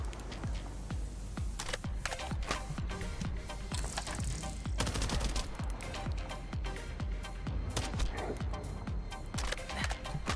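A Nell gun firing in The First Descendant, a dense series of sharp, clicky gunshots in quick succession throughout, with faint background game sounds.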